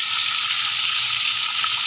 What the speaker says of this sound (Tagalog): Prito ako ng isda.